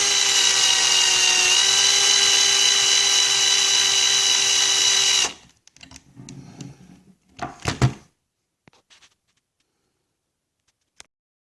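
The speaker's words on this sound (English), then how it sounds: "you want to go ahead and enlarge that hole just enough to accommodate the screw." A high-pitched whining power tool runs steadily for about five seconds while enlarging a screw hole in the hinge of an HP Pavilion DV7-6163us laptop, then stops, followed by a few clattering handling noises and near silence.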